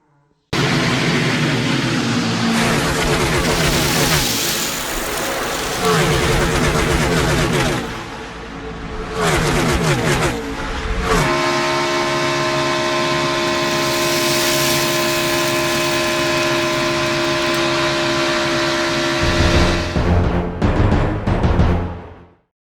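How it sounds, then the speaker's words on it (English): NASCAR race cars on the Horseshoe Bend track roar past in a loud, sustained engine drone with shifting pitch as cars pass, cutting out briefly around the midpoint before resuming and fading at the end. "A great pass by Daniel Suarez puts him in position"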